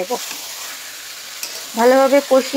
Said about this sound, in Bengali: আমি ধুয়ে রাখা মাংসটাকে এবার মশলাতে দিয়ে মশলাটা ভালোভাবে কষিয়ে